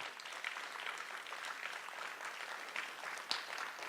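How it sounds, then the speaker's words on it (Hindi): An audience at a stage play in Bhopal applauds the performers with steady, dense clapping that holds at an even level throughout, heard from within the crowd and free of any voices. "जोरदार तालियों से अभिनंदन सभी कलाकारों का।"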